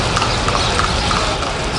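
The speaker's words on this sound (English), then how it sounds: "get pulled by a horse" Horse hooves clip-clop steadily along a street in Cuba, where a horse pulls passengers, the rhythmic strikes standing out over a constant dense wash of street noise.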